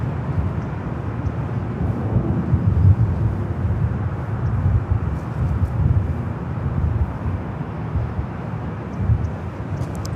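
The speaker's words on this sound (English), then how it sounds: "This JetBlue flight heading to JFK. It's an A321neo, flight" A JetBlue Airbus A321neo jet at Los Angeles LAX airport gives off a continuous low, rumbling roar that swells and eases slightly, heard from a distance with some wind.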